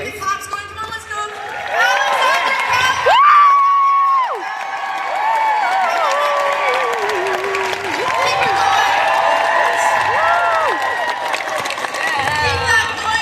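Clapping and cheering from a fan expo audience at a Supernatural panel, sustained applause with high whoops and shouts, loud and close, with a voice talking over it partway through.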